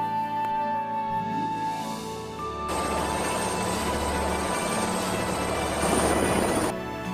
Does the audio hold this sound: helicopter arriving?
yes